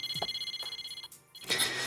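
A phone rings in a repeating trilling pattern of quick pulses, pauses briefly, then sounds again, fairly close and with no voices.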